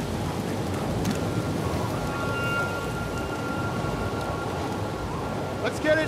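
Steady rain hisses throughout a storm in the video game The Last of Us Part II, with a faint rumble beneath and occasional brief clicks and thuds over the constant downpour.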